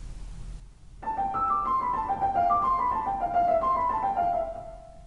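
Solo piano plays a rapid run of sixteenth notes from Mozart's variations on "Ah, vous dirai-je maman", a descending eight-note figure repeated at successively lower pitches, close and clear with no talking.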